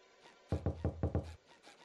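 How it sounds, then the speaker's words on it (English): Knocking on a door in a horror video game: five quick, evenly spaced raps with a hollow thud, fairly close and alone, with faint knocks before and after. "What if you just sat there and kept knocking at the door?"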